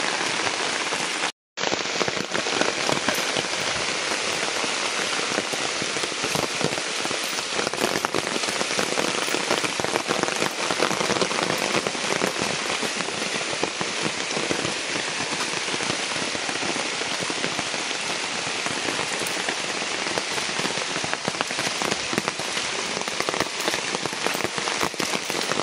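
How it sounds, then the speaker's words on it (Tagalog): Heavy rain falls hard and loud nearby, a dense, unbroken roar of drops on surfaces that continues after a brief dropout near the start. "Lumalakas na ang ulan. Sobrang lakas ng ulan."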